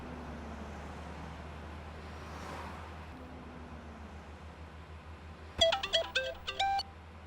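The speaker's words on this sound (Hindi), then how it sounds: "डीजीपी को फोन लगाओ।" A phone plays a short, bright electronic ringing melody near the end, a rapid series of tones, after several seconds of low traffic and engine rumble in a dubbed South Indian action film.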